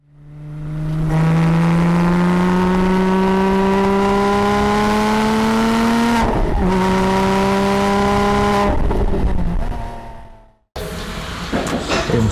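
A Toyota Supra fitted with an AMS Alpha 8 turbo kit revs loudly and steadily upward for several seconds, drops off briefly and climbs again, then cuts out before a rougher burst resumes.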